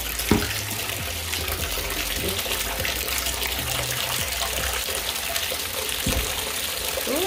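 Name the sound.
water running into a bathtub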